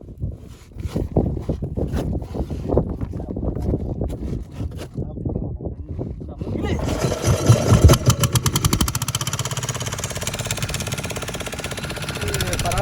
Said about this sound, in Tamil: இப்போ எல்லா துணியும் உள்ளே வாங்கிட்டு மறுபடியும் இன்ஜினை ஸ்டார்ட் பண்ணுறோம் பாருங்கள்